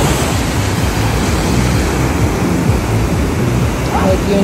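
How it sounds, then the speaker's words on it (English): Ocean waves wash onto a beach in Tenerife, a steady broadband roar of surf with no clear breaks, with background noise mixed in. "I hope you enjoy the sounds of the waves as much as I do"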